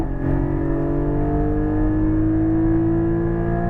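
Porsche 718 Cayman GT4 accelerating on a track, engine note climbing steadily in pitch as revs build, loud and close from inside the car, with no talk.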